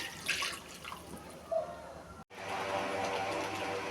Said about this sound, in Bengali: এবার ঝোল দিয়ে দিচ্ছি